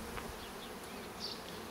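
Honeybees buzz around a beehive, a soft, continuous hum with a few passing individual buzzes, faint and alone without voices.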